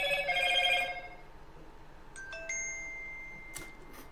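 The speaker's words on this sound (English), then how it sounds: "I got a text notification." A phone text notification chime during a Roblox game session, a faint series of short electronic tones over soft background hum, with no one talking.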